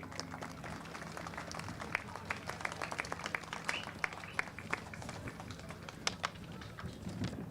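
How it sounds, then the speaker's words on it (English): A small crowd at an outdoor kart racing podium ceremony at Silverstone claps steadily at a distance, producing sparse, scattered hand claps with faint background murmur. "ladies and gentlemen, big round of applause for Mini"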